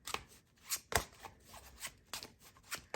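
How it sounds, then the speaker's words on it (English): Cards shuffled close by in short riffling bursts, a handful of quick rustles separated by brief quiet gaps. "So let's go ahead, shuffle the tarot."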